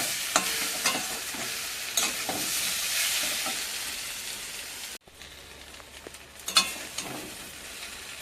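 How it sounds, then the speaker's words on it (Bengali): Potatoes sautéed in a pan with salt and turmeric, giving a close, steady hiss and crackle with scraping stirs, a brief break midway, then sizzling again more softly. "লবণ দিলাম, একটু হলুদ দিলাম, দিয়ে আলুটা কষিয়ে নেব"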